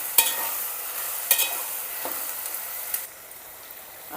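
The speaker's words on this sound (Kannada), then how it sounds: "ಒಂದೆರಡು ನಿಮಿಷ ಫ್ರೈ ಮಾಡಿಕೊಂಡು ಸಾಕು." Chopped vegetables fry in a pan for vegetable upma, a soft continuous sizzle with occasional scraping stirs and light clicks of a spatула, quieter toward the end.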